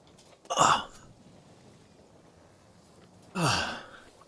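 A voice imitates coughing and spluttering up water in two short, forceful bursts about three seconds apart, close and dry with quiet pauses between.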